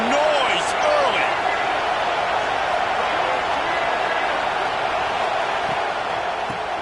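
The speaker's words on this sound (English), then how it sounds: "This crowd bringing the energy and noise early." A stadium crowd at a Florida State vs Clemson college football game produces a loud, sustained roar, a dense wash of cheering that stays steady throughout with no clear pauses.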